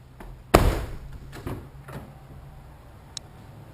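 A Honda Ridgeline's rear door shuts with one sharp thud, followed by a few fainter knocks and a small click, all close by in a quiet interior.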